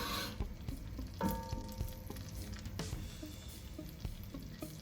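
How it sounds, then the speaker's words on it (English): A tablespoon of dried garlic sautés in a pan over medium heat for keto mac and cheese, giving a faint, soft sizzle with occasional light clicks and utensil taps. "I'm just gonna saute this garlic to bring it back to life a little bit"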